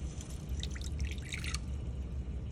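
Water is poured into a dish inside a temporary red-sided garter snake terrarium, producing a faint, brief burst of trickling and dripping over a low background hum.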